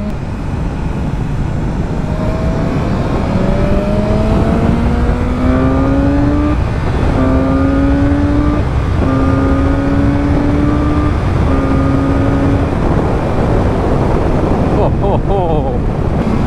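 A BMW motorcycle accelerates hard on a race circuit at MotorPark Romania, engine pitch climbing through several quick-shifted gears in rising sweeps, loud and close over steady wind rush, then easing off near the end.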